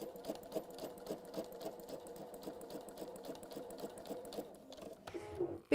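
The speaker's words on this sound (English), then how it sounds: "Because you've put your stitch length on 0, the worst that happens is that you don't move and you just do a couple of stitches on the spot." A sewing machine stitches free-motion on fabric with the stitch length set to zero, making a fast, steady mechanical chatter close by that slows and stops near the end.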